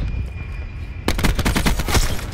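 Rapid bursts of automatic gunfire from a first-person shooter video game erupt loud and close after a quieter first second, continuing in a dense rattling stream to the end.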